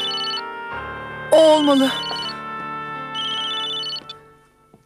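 A mobile phone ringtone in a Turkish TV drama, a repeating electronic melodic tone near and clear, with a voice and other speech briefly cutting in during the middle before the ringing resumes.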